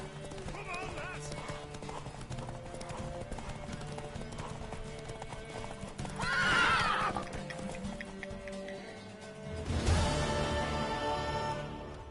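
In The Witcher 3, a horse's hooves clip-clop steadily while it gives two whinnying neighs, one midway and a louder one later, with voices talking over the game audio.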